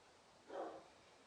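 A single short dog bark at moderate distance, rising briefly out of a quiet room during a yoga class, with no talk over it.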